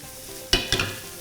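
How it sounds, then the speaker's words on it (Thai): Instant noodles stir-fried with bacon and holy basil in a pan, two quick scraping tosses of the spatula over a faint steady sizzle, close and brief, with no talking. "แค่นี้ผัดแป๊บเดียวแล้วก็ปิดไฟเลย"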